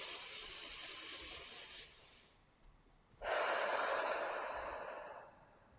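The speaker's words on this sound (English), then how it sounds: "Deep breath." A slow, deep breath drawn in and let out during a calming relaxation exercise, heard alone and close with no talking: a soft airy inhale, a brief pause, then a louder, longer hissing exhale.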